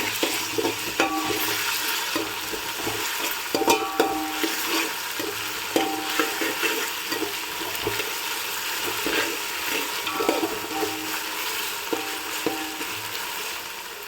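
Ginger garlic paste fries in a pan for a Hyderabad-style goat head curry, a steady sizzle with occasional soft scrapes and taps from stirring, close and fairly even throughout.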